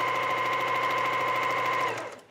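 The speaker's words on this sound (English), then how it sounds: "I'm just gonna sew along the line" Sewing machine running steadily as it stitches along a paper piecing line in a quilt block, a close, even mechanical whir that holds for about two seconds and then stops.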